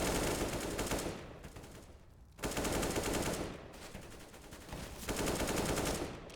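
Rapid gunfire bursts in a Counter-Strike match between two teams spraying at each other, loud sustained automatic fire in several long volleys separated by brief pauses.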